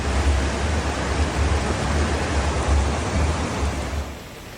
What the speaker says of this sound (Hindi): राजधानी देहरादून में पिछले 15 घंटे से बारिश का सिलसिला जारी है।